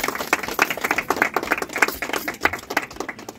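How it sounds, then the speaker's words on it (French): A gathering of an association in Luxembourg applauds, giving brisk, dense clapping with distinct individual hand claps close to the microphone, sustained evenly throughout. "Monsieur Dieudonné Bounier, que je vous demande d'applaudir s'il vous plaît"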